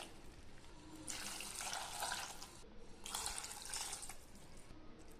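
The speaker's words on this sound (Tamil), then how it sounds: "இதில் 3 கப் தண்ணி ஆட் பண்ணிக்கிறேன்." Three cups of water are poured into a cooker of lentils while making sambar rice, heard as two short, faint bursts of splashing and pouring with a quiet pause between them.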